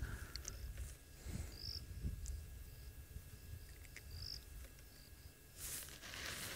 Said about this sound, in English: There are one or two crickets I can hear.